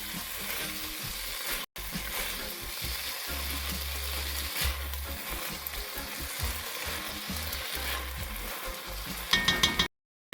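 Butter beans sizzling in a pan for a vegan dinner, a loud continuous frying hiss with occasional stirring knocks, briefly cut by a short gap, and no talking.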